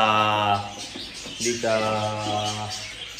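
Pet cockatiels give clear repeated chirps and whistled calls close by, with a steady background hum underneath.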